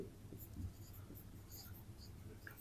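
Pen or chalk writing out an equation, a few short soft scratchy strokes, close and quiet, with faint murmuring underneath.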